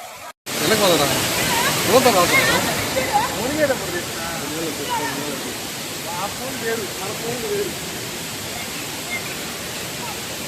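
Waterfall at Gundala Kona, a broad roaring rush of falling water close by and continuous, with voices talking over it.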